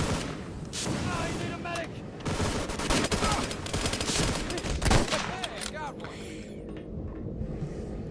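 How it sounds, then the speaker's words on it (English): Gunfire in the first-person shooter Hunt Down the Freeman, with dense overlapping shots and bursts that keep up almost without a break, loud and close, with a sharper blast near the middle and faint game sounds underneath. "And then there's gunfire."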